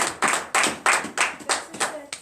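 A congregation at a morning prayer service in Bénin claps hands in a steady rhythm, about seven loud, evenly spaced claps in a group, close and clear, with no talk over them.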